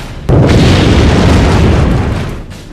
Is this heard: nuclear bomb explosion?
yes